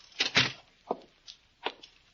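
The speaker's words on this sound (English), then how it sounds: "Shut the door." A door is shut as a radio drama sound effect in a lakeside cabin scene: a soft bump and rattle followed by a few faint knocks and clicks, quiet and close, with no voices.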